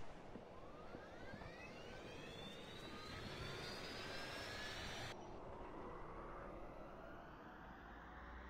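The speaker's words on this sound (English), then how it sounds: "Let us start the engines." Aircraft jet engines starting up in the Roblox game Aeronautica: a steady, dense engine roar with whining tones climbing in pitch as the engines spool up, continuous throughout with no talk.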